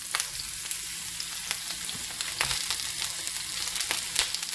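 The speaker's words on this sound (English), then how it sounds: "I'm going to put those vegetables in there to do a quick roast on them" Vegetables roast in a hot Instant Pot or Ninja Foodi, making a steady close sizzle and crackle with scattered sharp pops throughout, and no voices.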